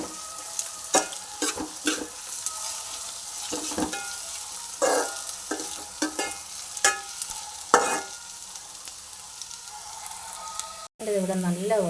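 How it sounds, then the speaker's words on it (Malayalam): Chopped ginger and garlic fry in a pan for a chicken curry, a steady sizzle with frequent scraping stirs and spoon taps, then a brief break and a shift at the end. "ഇതിലേക്ക് നമുക്ക് ഇഞ്ചിയും വെളുത്തുള്ളി അരിഞ്ഞ് വെച്ചിരിക്കുന്നത് തട്ടിയിട്ട് കൊടുക്കാം. ഇതും കൂടെ ഒന്ന് ചൂടായി വരട്ടെ. നല്ലപോലെ ഇളക്കി കൊടുത്ത്"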